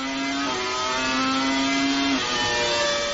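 Formula 1 cars from the 1999 season accelerating hard as a race restarts, a loud, continuous high engine whine that stays close and rises through stepped gear changes with no talk.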